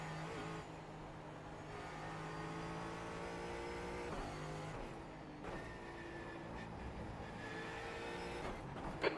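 Sustained, fairly loud race car engine drone with shifting harmonic pitch, shown during a racing video game league session with several cars, holding steady with a slight rise near the end.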